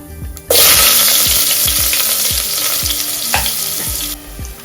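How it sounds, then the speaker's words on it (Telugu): Onions and cumin seeds for Andhra-style sambar hit hot oil and break into a loud, close, steady sizzle, with rhythmic stirring thumps underneath and no voices. "1/2 టేబుల్ స్పూన్ జీలకర్ర వేస్తున్నాను. ఆ తర్వాత మనం ముందుగా కట్ చేసి పెట్టుకున్న ఆనియన్స్ ఉన్నాయి కదా, ఆనియన్స్ వేసేస్తున్నాం"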